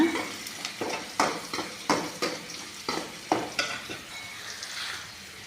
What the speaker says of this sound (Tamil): எண்ணெயிலே வதக்கிக்கோங்க